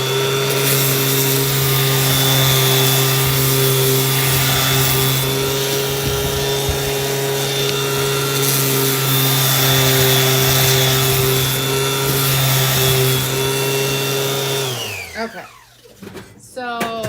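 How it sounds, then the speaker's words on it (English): A power sander works steadily on a wooden flag being given a distressed finish, a loud continuous whine that runs for about fifteen seconds before cutting off; a voice speaks briefly over it. "Maybe I've decided I'm going to sand it."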